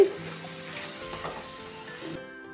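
Andhra restaurant-style masala crab pieces fry in a pan over high heat, giving a steady, close sizzle with faint stirring and no voices.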